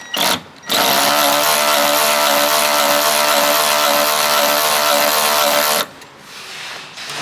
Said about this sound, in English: we'll start getting the grinder out